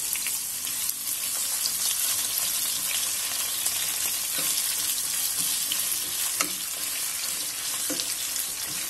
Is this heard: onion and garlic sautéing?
yes